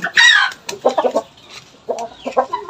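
Shamo chickens cluck up close in a quick burst of loud, sharp calls, then go quiet for a moment before a second run of clucks.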